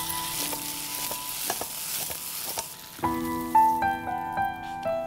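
Food with oyster sauce sautéed in a wok: a soft steady sizzle with scattered clinks and scrapes of a utensil, then brighter metallic ringing taps against the pan, moderately quiet with no talk.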